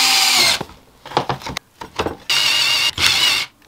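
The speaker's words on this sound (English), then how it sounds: "I've drilled through my first bit of a support structure" A battery drill bores through a wooden guitar support structure in bursts: a high whine, then several short grinding pulses, then two longer steady runs with brief gaps between them, close and loud, with no voices.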